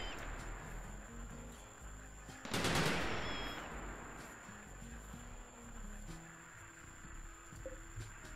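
A single sharp burst of gunfire from the Rimworld combat game, one loud rattling volley that cuts through a low ambient hum and then fades, with no one speaking over it.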